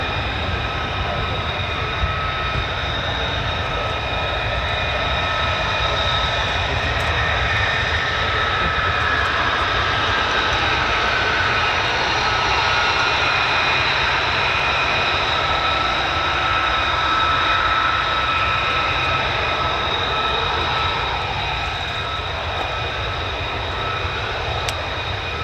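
F-35 fighter jet engine at an RAF airbase with a US Air Force fighter wing, a continuous loud roar and high whine holding steady for the whole stretch, with no voices.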